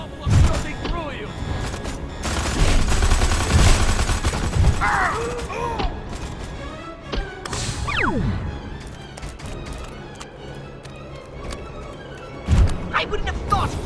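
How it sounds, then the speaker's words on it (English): Rapid bursts of alien weapon gunfire in Destroy All Humans! 2, loud and repeated over a rumbling explosive backdrop with mechanical clanks, while a voice speaks over part of it. "No problem shooting through you!"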